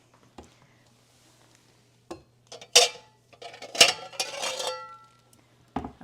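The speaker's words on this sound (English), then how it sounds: "Oh, I better get my pie pan." Metal pie pans clatter and clink as one is pulled from a stack, a few sharp knocks building to a busier rattling burst, close by with no talking.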